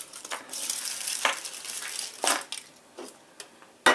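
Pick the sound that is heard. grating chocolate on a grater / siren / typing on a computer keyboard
grating chocolate on a grater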